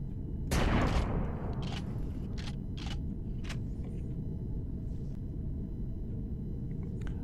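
Explosions in Empyrion Galactic Survival during a tank shakedown: one loud, close, rumbling blast, then several sharper, fainter bangs spaced over a continuous low engine rumble.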